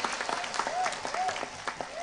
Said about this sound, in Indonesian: tepuk tangan sepindah malih.